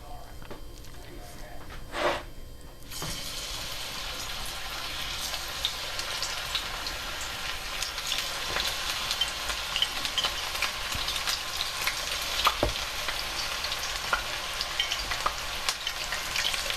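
Small sliced mushroom pieces dropping into hot oil and frying with a steady, fairly quiet sizzle and crackle that continues throughout, after a brief clatter near the start.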